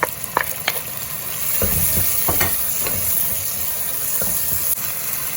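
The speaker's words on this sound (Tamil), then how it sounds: "இந்த பச்சை மிளகாய் அதோட இந்த வெட்டி வச்ச தக்காளியும் போட்டு கிளறுவோம்" Green chilies and chopped tomatoes sizzle steadily in a hot pan while a spoon stirs them, scraping and clinking now and then, close up and with no voices.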